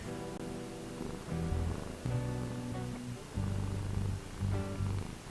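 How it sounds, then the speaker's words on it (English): A cat purrs close by in a low, steady rumble that swells and fades with each breath, quiet, with no talking. "He's purring."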